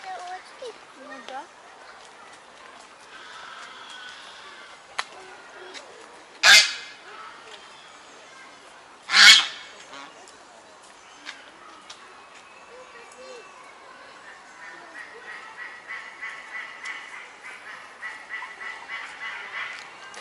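Geese honk repeatedly at a moderate distance in a zoo, with a few sharp knocks and a person speaking quietly over the birds.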